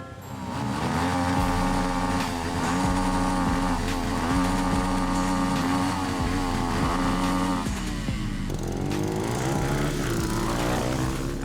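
A cheap SR21 dirt bike buzzes steadily while being ridden, its small engine note rising and falling with throttle changes, close and loud throughout with no talk.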